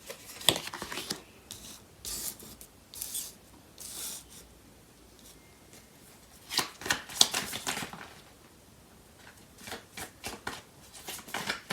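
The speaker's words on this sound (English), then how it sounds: "So I'm going to clarify these cards." Tarot cards shuffled by hand in several bursts, brisk riffling and rubbing swishes separated by short pauses, close and fairly quiet with no talking.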